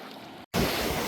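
Floodwater after Cyclone Ditwah rushes under the Vattuvagal bridge in a loud, steady broadband roar, broken by a brief gap of silence before the torrent resumes even louder.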